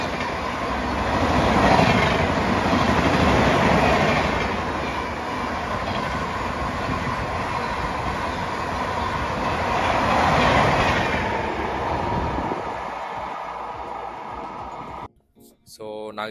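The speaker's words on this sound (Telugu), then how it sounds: "సో ఈ ట్రైన్ ఏంటంటే Coimbatore Hazrat Nizamuddin Konguru super fast express" Kongu Superfast Express train between Coimbatore and Hazrat Nizamuddin running past, a loud sustained rumble of wagons with rhythmic clatter of wheels over rail joints that cuts off abruptly near the end.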